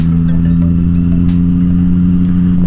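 A Yamaha MT-09 motorcycle engine drones loud and close on a test ride, a steady deep rumble holding throughout with slight throttle swells and faint clicks over it.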